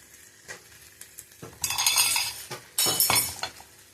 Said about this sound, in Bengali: এবার আলুগুলো দিয়ে দেবো এক এক করে